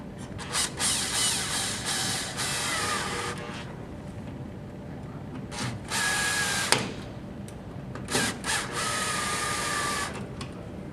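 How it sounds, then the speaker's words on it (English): Short bursts of a power driver or drill tighten the mounting wings of an electrical outlet box for a 220-volt outlet, working one side and then the other, with pauses between runs. "And then tighten up your wings a little at a time. First one side, then the other side."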